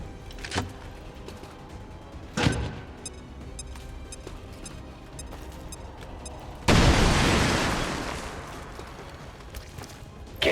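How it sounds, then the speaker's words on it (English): A grenade blast in XCOM 2: War of the Chosen erupts as one loud, close boom and rumbles off over a few seconds, following a couple of sharper thuds and pops earlier in the game's battle. "Nicholas himself, meanwhile, can then still launch his second grenade"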